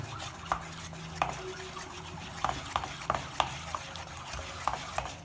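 Biscuit cake batter, a thick paste with Eno added, being mixed in a vessel, giving soft scraping strokes and irregular clinks of a utensil against the bowl, close and steady with no voices.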